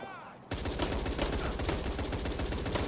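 Rapid gunfire in the Tomb Raider video game bursts in after a brief quiet moment, then runs as dense, loud automatic shots that continue to the end.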